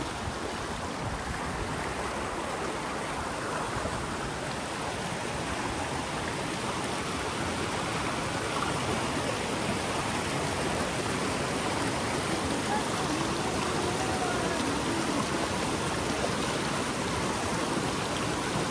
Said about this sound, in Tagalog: Yan ang ilog par.